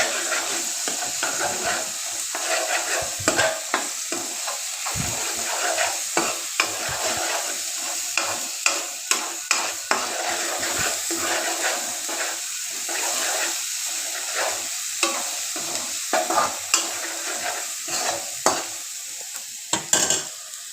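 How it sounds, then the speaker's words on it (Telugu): Ginger garlic paste with a little turmeric being stirred in a pan. A steady background sizzle runs under repeated scraping and clinking from the spoon throughout. "కొద్దిగా అల్లం వెల్లుల్లి పేస్ట్ వేసుకొని బాగా కలుపుకోవాలి."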